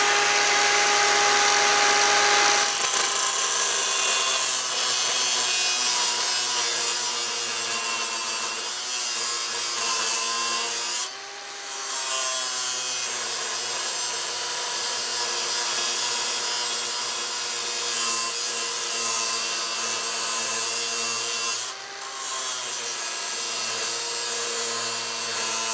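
A Milwaukee cordless grinder cuts steadily with a loud, sustained whine, the pitch dipping twice under load for a moment before recovering.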